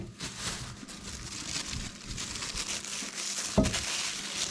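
A plastic shopping bag crinkles and rustles steadily while being handled and opened outdoors in a village kitchen setting, with one sharper crackle near the end.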